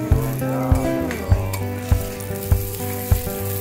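Steak hamburger sizzling and frying at a Kamakura food stall, a steady hiss with repeated sharp metallic clinks of utensils against the pan or plate.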